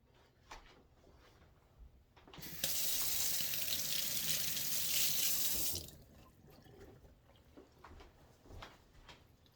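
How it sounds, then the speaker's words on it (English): A tap is turned on and water gushes loudly close by for about three seconds, then stops, leaving quiet kitchen handling noises. "the sound of the water right next to the microphone probably sounded very bad"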